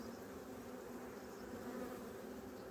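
Honey bees buzz steadily at an open winter hive in Adana, a dense continuous drone filling the whole stretch at close range with no voices.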